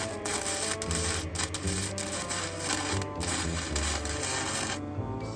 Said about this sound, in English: We're gonna do some welding.